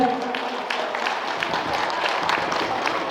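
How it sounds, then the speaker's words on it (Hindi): Audience applause at a Sahu community youth introduction gathering in Supela, Bhilai, a dense steady clapping from a crowd with faint voices mixed in. "एक बार लेकर जोरदार ताली हो जाए"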